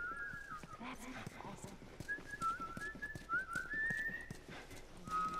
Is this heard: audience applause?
no